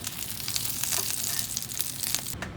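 Pelmeni dumplings fry in a pan for a quick dinner in a homemade camper van, a close, steady crackling sizzle with small pops.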